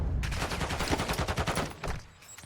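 Rapid bursts of gunfire in a Season X match of a video game, several quick shots firing close together for about two seconds before cutting off.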